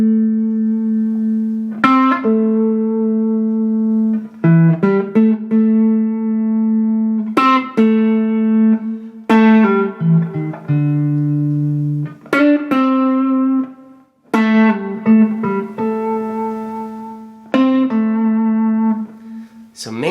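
Electric guitar soloing on the minor pentatonic scale with varied dynamics, sustained bent notes alternating with quick picked bursts, some soft and some loud, with a slight distorted edge, close and unaccompanied.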